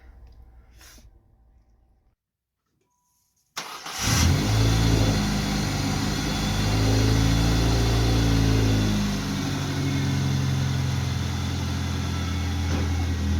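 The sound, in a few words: car engine starting and revving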